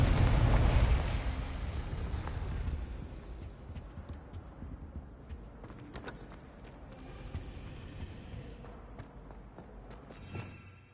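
Fire spells burst and explode in the Hogwarts Legacy video game, a loud blast at the start fading into a rumbling crackle, then scattered sharp pops and impacts through the rest of the passage.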